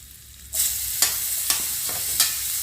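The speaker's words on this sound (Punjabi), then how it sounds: "ਨਾਲ ਹੀ ਹੁਣ ਅਸੀਂ ਪਾ ਦੇਣੇ ਟਮਾਟਰ" Tomatoes tipped into a pan of frying potatoes and onions set off a loud, steady sizzle, with a few sharp scrapes of a stirring spoon against the pan. No one speaks.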